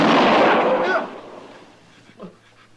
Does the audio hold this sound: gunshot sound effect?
yes